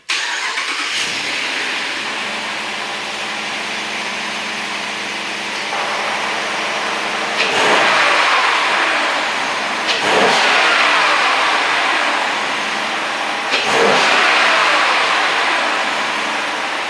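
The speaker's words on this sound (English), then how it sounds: "fire the car up. We're going to rev it a couple times, let you hear the stock intake" A 5.7 Hemi V8 engine in a Dodge Durango R/T with stock intake cranks and fires up, settles into a steady idle, then is revved sharply three times, each rev swelling loud and dropping back.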